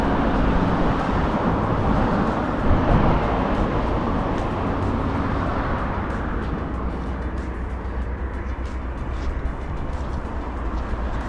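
Traffic from big vehicles heard while travelling, a loud continuous broadband road roar that rumbles on steadily throughout with no talking.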